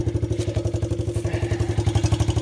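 A 1983 Suzuki LT125 single-cylinder engine idles during carburetor tuning, a loud close-up chugging with a fast, even thumping pulse that carries on steadily without a break.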